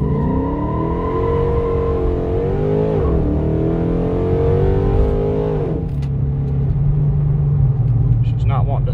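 A built 2008 Dodge Charger R/T with a 3200 stall converter launches at wide-open throttle on a cold road, its engine roaring loud and close with a rising, wavering rev and a sudden drop near the end, as tires spin.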